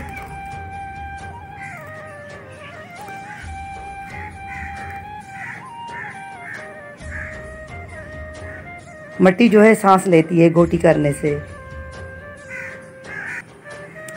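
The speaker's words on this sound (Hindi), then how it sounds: "आप परिंदों की आवाज़ें सुन रहे होंगे, तो ये इस बड़े दरख्त में बैठे हुए हैं।" Several birds call and caw from a large tree nearby, with a burst of loud, harsh cries midway, while someone talks steadily in Hindi over them.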